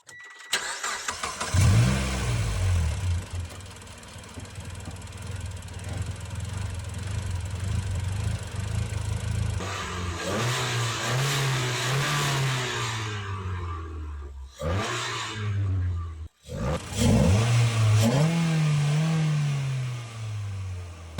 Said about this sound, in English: I'll turn up the car and